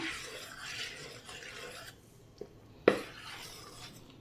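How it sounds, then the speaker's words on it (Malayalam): Scraping and rubbing strokes of a spoon stirring rice flour into hot water in a pot, a thick mixture, close up, with a sharper knock partway through. "നല്ലതുപോലെ ഇളക്കി മിക്സ് ചെയ്യാം."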